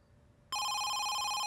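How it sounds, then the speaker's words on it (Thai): A telephone bell starts ringing abruptly partway through, loud and steady with a bright electronic tone, in a Thai horror comedy scene set at home. "โทรศัพท์มาครับผม"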